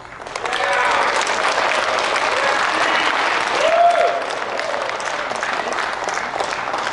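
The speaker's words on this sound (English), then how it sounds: "Put another round of applause for Steve Schorr, who's done so much for our" A large crowd applauds steadily and loudly for the whole stretch, with a brief whistle or cheer rising above the clapping midway.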